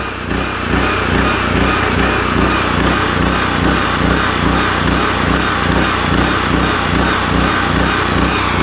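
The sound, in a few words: Generac GP3300 portable generator running, surging after first pull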